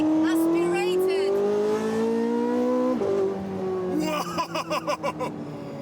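Porsche 918 Spyder with a naturally aspirated engine, its loud rising engine note climbing steadily before a quick shift and a burst of sharp revving, while a person talks over it.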